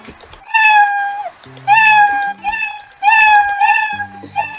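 A Scratch cat meow sound effect plays four times in a row, drawn-out and tonal, with a low rhythmic thumping underneath.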